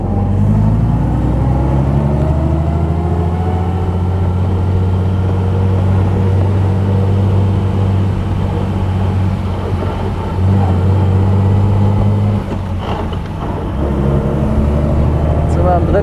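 A 1933 Alvis Speed 20 vintage tourer's engine drones loudly and steadily while driving, with a brief dip and shift into third gear partway through, a deep rumbling hum up close.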